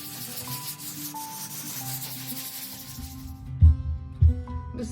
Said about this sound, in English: I'm gonna sand this down now.